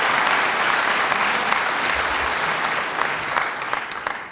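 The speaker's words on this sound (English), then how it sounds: "Mr. King, give him a round of applause for his international work" A large audience gives loud sustained applause for a speaker at an event on Martin Luther King's legacy, a thick wash of clapping that thins slightly toward the end, with no speech over it.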